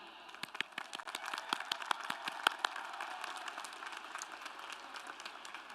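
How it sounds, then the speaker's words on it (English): Graduates at a college of health and human services commencement ceremony clap, starting with sharp scattered claps that swell into steady, moderately distant applause from a large seated crowd. "give yourselves a round of applause"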